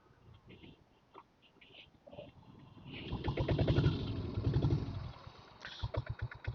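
A motorcycle fitted with a double core silencer revs up loudly for a few seconds, its engine note swelling and throbbing before easing back to a rough idle, with a few faint chirps at the start.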